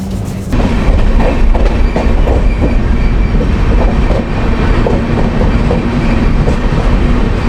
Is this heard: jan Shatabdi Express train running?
yes